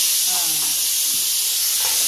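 A pressure cooker cooking rice on a home stove lets off a steady, loud hiss of escaping steam, with faint background voices and clatter underneath.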